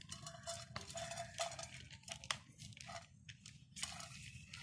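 Washed sooji wheat stirred in a frying pan, with a spatula scraping and clinking against the metal in irregular bursts of close, moderately loud scrapes and taps.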